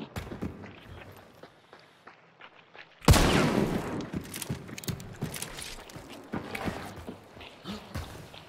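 A gunshot in Hunt: Showdown cracks out sharply after quiet footsteps, followed by a scatter of lighter thuds and steps at moderate distance.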